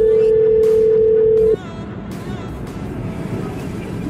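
A phone call to order rotis is placed from a truck in winter. A steady ringing tone holds for about a second and a half, then stops, leaving engine hum and faint background noise.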